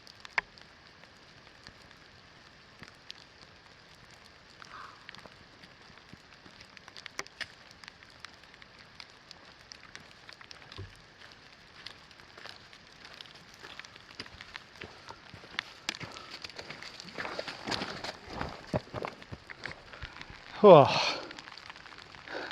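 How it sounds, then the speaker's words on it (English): Steady patter of rain on a surface during a bush hike to Lake Tali Karng, growing heavier and closer near the end, with a brief spoken exclamation and footsteps. "now it's raining."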